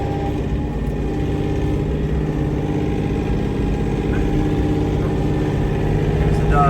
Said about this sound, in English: I think Rio wants to get run over by the tractor.